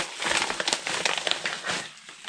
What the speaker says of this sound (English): Hear the crinkle, hear the crackle.